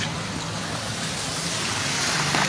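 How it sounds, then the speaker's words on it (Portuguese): Cars drive through rising floodwater in a flooded town square at night, a continuous broad wash of engine noise and splashing water, loud and close, with no clear break. "Está passando alguns carros aqui."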